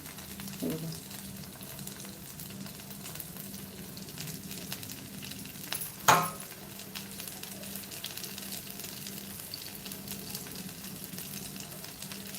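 Flour-coated bombil (Bombay duck) fish frying in a pan of oil, a steady soft sizzle with a sharp clatter and spatter burst around the sixth second, then continued even frying.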